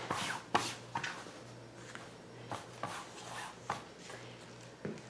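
Fabric being cut to size for a pillowcase, with several short, sharp snips and rustles of cloth spaced irregularly over a low steady hum.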